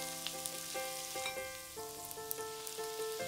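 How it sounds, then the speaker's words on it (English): Chopped onion and carrot fry in a pan, giving a steady, soft sizzle with light crackles and a few faint clinks, alone at a low level. "Put the chopped onion and carrot in the pan at once."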